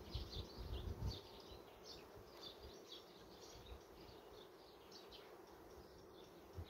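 Honey bees buzzing at an open hive during a colony inspection, a faint, steady drone of many wings that holds low and even throughout, with a slightly louder murmur at the start.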